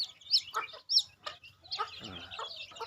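Chickens cluck and newly hatched chicks peep nearby in short, scattered calls, some high and chirpy, others lower and throaty, with quiet gaps between.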